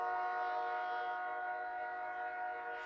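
A loud train passes outside behind closed windows, a steady rumbling roar with a sustained horn-like drone holding throughout, close and continuous, with no talking.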